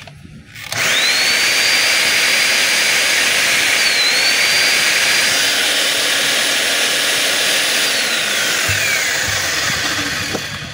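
A loud, steady electric motor whine runs continuously after a brief start, with a high-pitched tone shifting slightly, as a DeWalt D25899 10 kg electric jackhammer motor is test-run without its motor cover.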